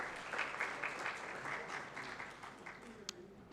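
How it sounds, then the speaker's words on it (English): An audience at a tourism investment event gives the speaker a round of applause with a continuous patter of clapping that thins toward the end. "Could we once again appreciate him, please, with a round of applause?"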